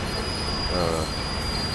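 Freight train wheels squeal steadily at close range in Train Sim World, Cajon Pass, a sustained high metallic screech over low rolling rumble, alone without talk.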